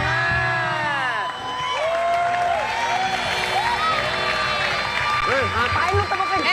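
A studio audience at the Indonesian TV variety show YKS claps and cheers loudly and continuously, with excited whoops and shouting voices mixed throughout.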